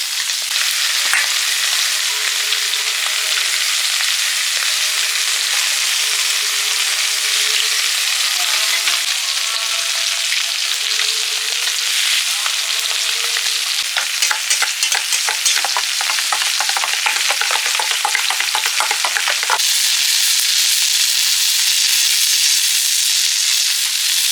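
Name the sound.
eggs with chilli and onion frying in a pan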